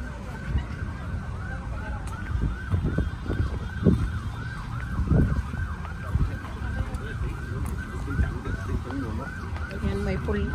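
An ambulance siren wails in a fast, repeating up-down pattern at moderate distance, with wind noise and low rumbles underneath.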